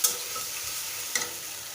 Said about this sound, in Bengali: এক চা চামচ জিরা পেস্ট এক চা চামচ আদা রসুন পেস্ট বড় মাছ তো দিয়ে মশলাটাকে আবারও ভালোভাবে কষিয়ে নেব